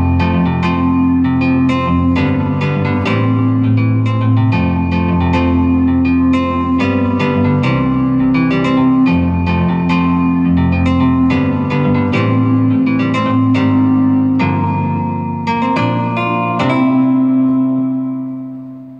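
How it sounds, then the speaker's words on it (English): Guitar patch from a 1988 workstation synthesizer with 4 MB of PCM sample ROM plays a busy, continuous run of picked notes and chords, bright and steady with a touch of reverb, loud and alone before fading at the end. "Now this is the guitar, and it sounds like this."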